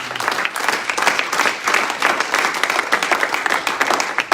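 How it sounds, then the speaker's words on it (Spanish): A church congregation claps together, a busy, uneven patter of many hands that keeps going steadily throughout, moderately loud with no voice on top. "Denle un aplauso a Jesús"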